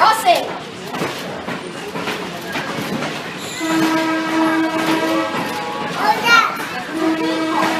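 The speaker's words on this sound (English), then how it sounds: "we are going to be hearing our diesel locomotive horn as we go through our crossing" A diesel locomotive horn at a railway museum crossing in Worthington, Ohio sounds in two sustained, loud tonal blasts over rumbling, clattering rail cars, with voices and children's chatter in the background.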